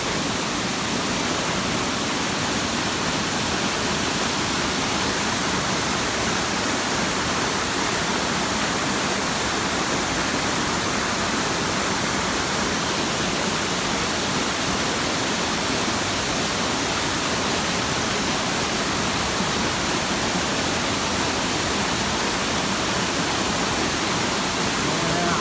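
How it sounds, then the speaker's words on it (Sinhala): Steady, loud broadband roar of a waterfall in Sabaragamuwa, Sri Lanka, heard up close as continuous rushing water that stays constant throughout, with no breaks or other sounds standing out. "ඇල්ලේ ලස්සන."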